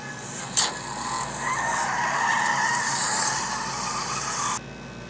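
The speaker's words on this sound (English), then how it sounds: "an orange monster truck just drove by. And it was speeding really fast" An orange monster truck speeding past, a sharp onset followed by a loud, sustained tire-squeal-like whine and roar lasting a few seconds before cutting off abruptly, with no talking over it.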